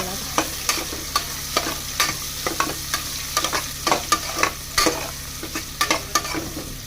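Onions frying in a pan until browned, with a steady sizzle under repeated sharp scrapes and clinks of a spatula stirring against the pan, all close and without talk.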